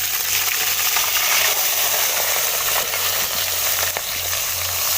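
Onion, tomato and green chilli paste fries in a hot pan with a loud, steady hissing sizzle, a low bubbling hum beneath and a couple of light utensil knocks.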